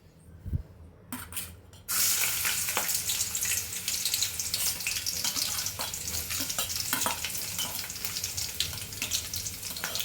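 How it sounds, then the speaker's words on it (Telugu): Garlic and ginger pieces frying in about two tablespoons of oil in a pan for a street-style soya Manchurian, a steady close sizzle that begins loudly after a brief clatter and carries on with scattered stirring clicks. "దాంట్లో కొంచెం ఒక 2 టేబుల్ స్పూన్ అంత ఆయిల్ వేసేసుకొని ఫస్ట్ దీంట్లోకి మనం కట్ చేసుకొని పెట్టుకున్న వెల్లుల్లి అల్లం ముక్కలు వేసేద్దాం"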